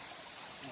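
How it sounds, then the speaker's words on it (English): Waterfall along a hiking trail, a steady broadband rushing of falling water, fairly loud and continuous throughout with no voices. "Oh, the waterfall."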